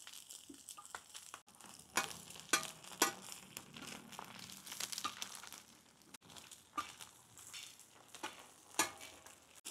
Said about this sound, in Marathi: आपण या मसाल्यामध्ये अंडे मिक्स करून घेऊ।